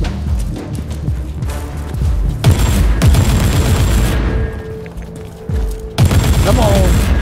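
Rapid automatic gunfire from a weapon mowing down Tyranids in Warhammer 40K Inquisitor Martyr, loud bursts of machine-gun fire with booming impacts that pause briefly and resume, interleaved with in-game effects; a voice talks over part of it.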